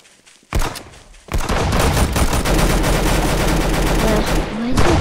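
Rapid bursts of weapon fire from a baseball launcher in the Roblox shooter Arsenal, a dense, loud volley that starts abruptly after a short lull and keeps going without letup.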